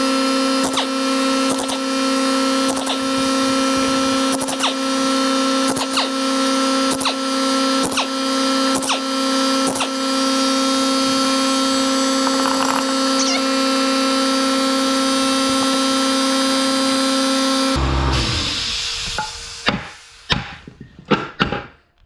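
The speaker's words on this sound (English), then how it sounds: "I'm going to take off all 10 of these bolts on both of the hubs" A whining power tool spins off 18 mm hub bolts on a Chevy C4500's rear hubs, a steady loud hum with repeated sharp rattling impacts, then stopping and followed by a few clanking knocks.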